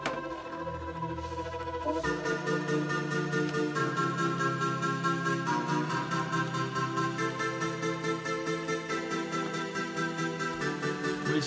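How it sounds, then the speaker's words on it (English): A second synthesizer line in an FL Studio electronic track with an 80s feel enters over bass and drums, sustained bright chords and melody playing loudly and steadily throughout with no voices. "And here comes the second synth."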